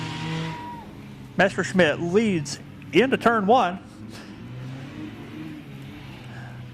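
Three Hornet division race cars accelerate on a speedway oval after the green flag, their engines rising in pitch and passing by. A commentator talks over the engine noise throughout.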